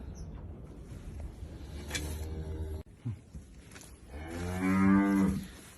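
Cows moo nearby, one long low call and then a louder, drawn-out moo, over faint outdoor background noise.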